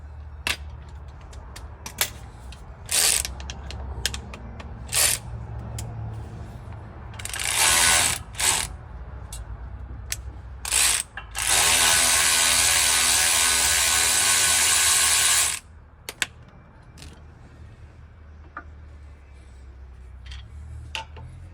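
Ratchet wrench loosening and removing a bolt from the brakes of a 2008 Ford F550 diesel truck, with bursts of fast clicking, some brief and one sustained run of several seconds, close up between quieter pauses.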